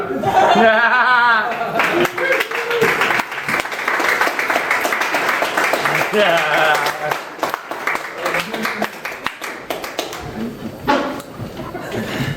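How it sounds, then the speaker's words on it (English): Loud applause and laughter from a comedy club audience in Harrisonburg at the end of a stand-up set, sustained clapping with cheers under someone talking over it. "Why are you stop applauding? Keep it going."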